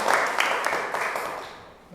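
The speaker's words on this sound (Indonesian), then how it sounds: "Tepuk tangan anak-anak." Children in a classroom clapping together, a brief burst of applause that fades over two seconds, close and with no talking.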